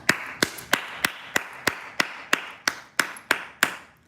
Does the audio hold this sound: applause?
yes